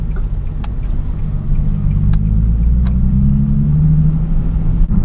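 Nissan 370Z driving along a beach avenue, heard from inside as a steady, loud low engine rumble with slight revving and a few faint clicks and knocks.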